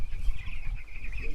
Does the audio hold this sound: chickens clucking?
yes